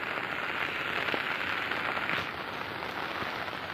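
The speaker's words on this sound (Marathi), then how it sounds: "खूप पाऊस आहे आज बघा" Heavy monsoon rain pours down in a steady, dense hiss with faint drops pattering on surfaces, unbroken throughout.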